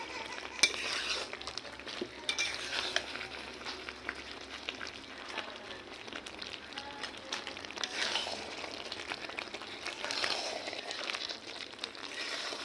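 A spoon scrapes and stirs jujube pickle with spices in a pan, a steady run of soft clinks and scrapes with a faint sizzle, no voices.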